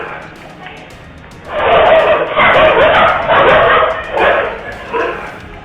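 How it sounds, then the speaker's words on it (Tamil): Street dogs at night bark and yelp in a rapid cluster of several loud bursts, a pack of five chasing a boy along a town street as caught on CCTV, with faint background hiss. "இரவில் தனியாக நடந்து சென்று கொண்டிருந்த சிறுவன் ஒருவனை 5 தெருநாய்கள் குறைத்துக் கொண்டே துரத்தும் சிசிடிவி காட்சி வெளியாகி உள்ளது."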